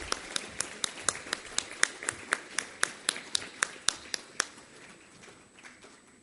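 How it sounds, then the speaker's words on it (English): Audience applause for Dr. Govinda Mukherjee at the inauguration function of the 72nd AIOC 2014, a steady run of sharp claps from a crowd that gradually thins out and fades in the last two seconds. "Let's all again applause for Dr."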